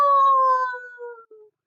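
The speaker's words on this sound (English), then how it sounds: "Howl along." A single drawn-out dog howl, loud and close, holding a clear tone that slowly falls and fades, with a brief final note at the end.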